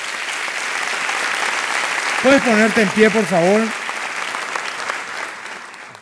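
A church congregation claps steadily throughout a Spanish-language service, broad applause filling the room while a voice briefly speaks over it in the middle.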